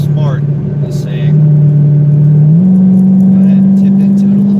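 A Mopar car with 3.09 gears and a drag pack, recorded from inside, accelerates up to speed. Its steady engine drone rises in pitch and stays loud and close throughout, with someone talking over it.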